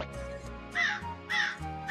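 A crow gives three loud, harsh caws close by, evenly spaced, as a story sound effect over soft background music.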